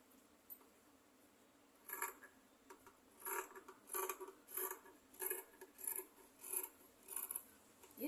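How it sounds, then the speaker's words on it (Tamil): Scissors cut through a folded double layer of cloth for a petticoat, a series of rhythmic rasping snips, evenly spaced and close but soft, with no voices. "இப்போ ரெட்டையாக மடித்து போட்டு இதை இப்போ வெட்டிக்கிடுவோம்."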